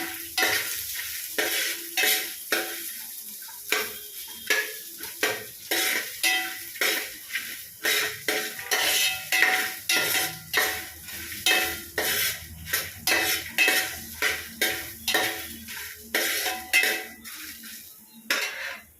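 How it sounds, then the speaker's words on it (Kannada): Mangalorean coastal-style fish curry base fries in a spoonful of coconut oil while a metal spoon stirs it. Rhythmic scraping and clanking against the pan repeat in a steady, almost regular beat over a light sizzle, loud and close, with no one talking. "ಇವಾಗ ಮತ್ತೆ ಇದನ್ನು ಫ್ರೈ ಮಾಡ್ಕೊಳ್ಳೋಣ"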